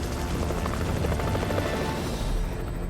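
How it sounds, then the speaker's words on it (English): A rescue helicopter passes overhead during a wilderness search, its steady, loud rotor thump and engine roar filling the whole stretch without pause, with no voices over it. "Hidden by the trees, Larry and Tommy remain invisible to the helicopter crew above"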